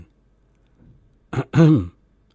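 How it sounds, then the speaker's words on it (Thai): A single short throat clearing, a quick rasp followed by a louder voiced grunt, close and isolated in near silence. "เสียงกระแอม"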